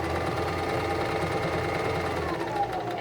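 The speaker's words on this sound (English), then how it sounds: "I'm just sewing right along the fold until I get to the other side where it ends." Singer 1234 sewing machine stitching along the fold of a tote bag, a steady close mechanical whir with a rapid, even knocking rhythm that runs continuously without pause and with no talking.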